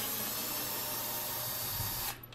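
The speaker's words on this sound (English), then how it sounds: "I'm going to use my handy dandy screw drill gun" A steady, continuous whir of a power drill unscrewing screws close by, then cutting off abruptly near the end.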